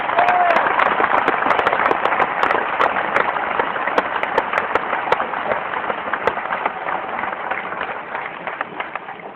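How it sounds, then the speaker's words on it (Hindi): A crowd at a gathering of Rajasthan RCM representatives breaks into applause for fellow members, with sharp individual claps standing out over a steady, fairly close wash of clapping. "उनके लिए तालियां जरूर बजवाना चाहूंगा"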